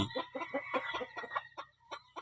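Startled chicken on a farm gives a run of rapid, agitated clucks, about a dozen short calls close to the listener, loud at first and then spaced out toward the end, with no talk over them.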